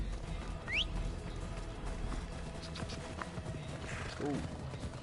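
Horse hooves clip-clop and a brief whinny rise over steady game ambience in Assassin's Creed Odyssey, moderately close and continuous through the scene.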